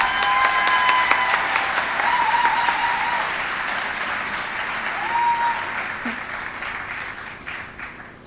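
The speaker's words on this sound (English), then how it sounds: "Let's give them another round of applause." A large audience at an awards ceremony for educational projects gives sustained applause for more than eight seconds, dense and even at first and slowly tapering near the end, with a few faint voices in the crowd.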